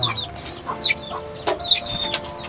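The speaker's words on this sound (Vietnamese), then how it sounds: "Giờ này cũng trưa rồi, mấy con gà của bác đòi ăn đấy" Chickens belonging to a farmer cluck insistently at midday, wanting food, with a few close, sharp squawks and bursts of clucking over a quiet yard background.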